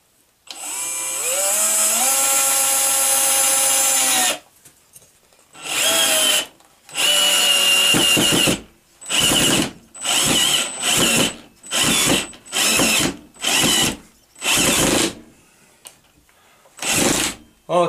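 A power driver sinks a 3.5 decking screw into a big block of fir: a long whining run with rising pitch, then a series of short loud ratcheting bursts separated by pauses, close and dry.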